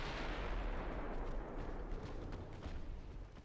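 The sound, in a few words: naval gun salvo in Ultimate Admiral Dreadnoughts video game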